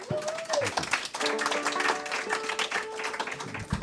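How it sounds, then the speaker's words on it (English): Crowd applause with scattered claps and a few cheers, fairly steady throughout, with a brief voice near the start. "let's give him a round of applause"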